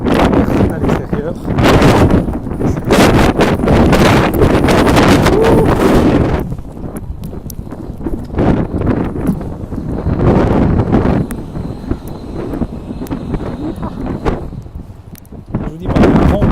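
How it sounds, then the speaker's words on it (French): Strong, gusty wind buffets the microphone outdoors on a private island at sea off Miami, a loud continuous roar that rises and falls throughout, easing briefly in the middle before surging again. "il y a un vent terrible"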